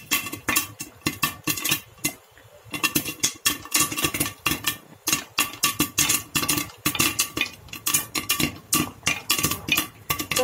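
Popcorn pops in a pan, a dense run of sharp, rapid cracks and rattling clinks near at hand, with a brief lull early on before the bursts resume steadily.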